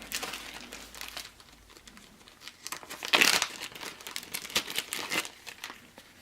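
A pack of Turning Point game cards is torn open with close, crisp crinkling and tearing of plastic wrap, peaking in a louder rip midway, then continued rustling.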